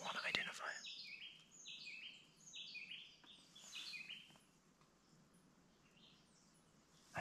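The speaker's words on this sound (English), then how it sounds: "That's the bird I still want to identify." Faint bird song in a cloud forest: a run of quick, repeated chirping notes with soft pauses between them, set against a quiet, hushed background.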